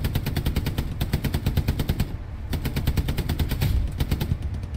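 High-explosive rounds fire in Hell Let Loose, loud rapid bursts of repeated shots in quick rhythmic runs, with a short pause between two strings of fire.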